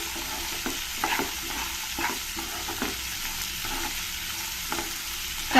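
Chopped beans and carrot are stirred through hot tempering in a pan for an upma, with a steady close sizzle and irregular scraping strokes of a spoon every second or so, no voices.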